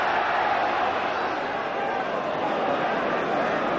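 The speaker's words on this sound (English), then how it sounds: "Listen to the crowd." A rugby crowd roars at a 1984 John Player Cup match between Bristol and London Welsh, a dense, continuous wash of cheering and noise from a large stadium audience.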